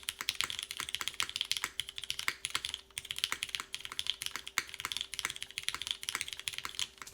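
Steady typing on a Kronos 60% mechanical keyboard, quick close clacks in an even stream with occasional brief pauses, quiet and with no voices.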